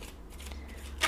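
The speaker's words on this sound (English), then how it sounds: "while you're doing this you get into an overhand shuffle like this" A deck of playing cards is given a brief overhand shuffle, a quick soft riffling flutter ending in a sharper slap, close and quiet.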